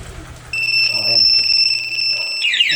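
Anti-theft alarm on a Honda Click V3 motorcycle sounding with steady high electronic tones, then a rising chirping sweep at the end, while someone talks nearby over a low idle hum.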